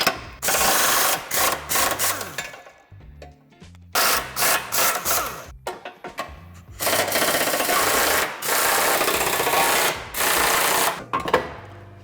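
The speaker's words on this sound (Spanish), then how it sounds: "aflojaremos las tuercas que sujetan el travesaño al chasis" A BMW X3 G01 has the nuts holding its crossmember to the chassis loosened, likely with a power tool, in a series of loud, close, rattling bursts separated by short pauses.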